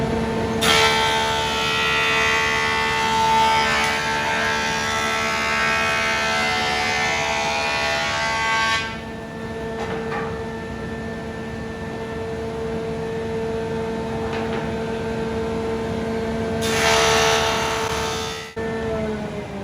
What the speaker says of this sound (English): Could you turn off the vacuum now